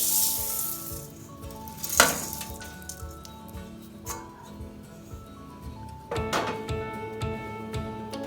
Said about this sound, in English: We have to dry roast this until the aroma comes out from dhania and jeera.